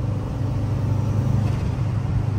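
A Subaru WRX engine fitted with a block off plate, idling with a steady low rumble, close and even, with no talk.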